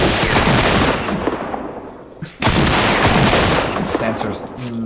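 Gunfire from the new legendary double barrel shotgun in Fortnite, loud dense blasts filling most of the stretch with a brief gap midway, then another heavy burst, with game noise and some voice underneath.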